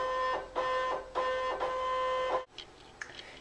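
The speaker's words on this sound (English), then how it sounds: "Now that I've scanned my bib top into my ScanNCut" A Brother ScanNCut machine scans a fabric bib piece, humming with steady tonal motor whine in repeated pulses, then stopping abruptly and leaving a quieter mechanical tail.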